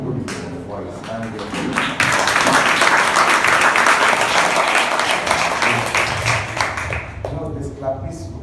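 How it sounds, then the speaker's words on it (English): Loud clapping from an audience at a motivational event for teachers, building into a dense, sustained burst of applause with voices murmuring at the start and end. "this clap is so loud."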